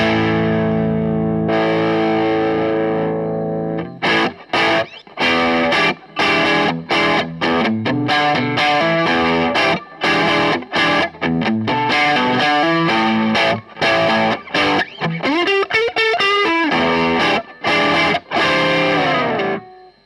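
An electric guitar through an overdrive pedal with the gain turned down plays a sustained chord, then a busy run of single notes and chords with short gaps, loud and close, with no talking.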